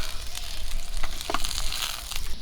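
Rohu fish pieces, head and tail included, frying in hot oil until crispy, giving a steady close sizzle with small crackles and pops, no voices.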